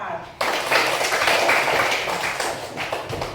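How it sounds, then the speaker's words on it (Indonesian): A classroom group of students clapping in applause for one group, starting abruptly and continuing as a lively, uneven patter for about three seconds, with a voice speaking over it. "tepuk tangan untuk kelompok 4."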